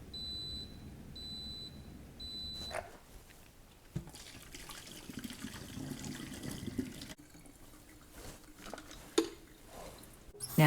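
A vinegar and water solution pours from a kettle into a sink, a steady splashing rush lasting several seconds after a few faint, evenly spaced beeps at the start.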